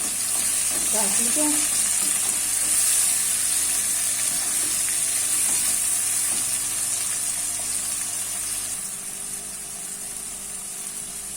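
Tomatoes and green chilies frying with ridge gourd in a pan, a loud, steady sizzle that continues throughout and settles slightly near the end, with a brief spoken phrase early on.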